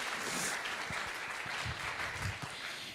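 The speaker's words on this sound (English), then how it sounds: "Give yourselves a round of applause." A crowd of women at a church gathering applauds, a continuous wash of clapping from many hands in a hall, moderately quiet and steady, with a few heavier thumps underneath.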